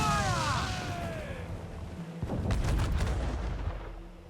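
Ship cannons boom in a naval battle in Assassin's Creed Black Flag, a heavy volley of deep blasts rolling together after a brief rising whistle, loud and close.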